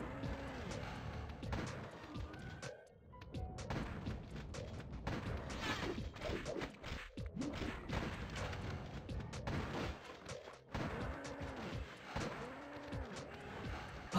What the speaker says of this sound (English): the shotgun does take him out real fast